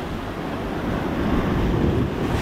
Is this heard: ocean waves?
yes